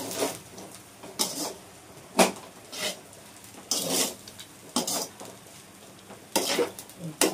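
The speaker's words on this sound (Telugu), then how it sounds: "ఇవన్నీ వేసి బాగా ఫ్రై చేసుకోవాలి." Chicken fried rice ingredients fry in a pan, with a low sizzle broken by about seven loud, brief bursts of a utensil scraping and stirring against the metal, close up, with a voice faint in places.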